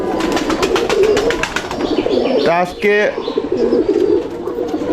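Giribaz pigeons in a loft coo in repeated low throaty bursts close to the mic, with one or two clearer coo calls partway through while someone talks over most of it.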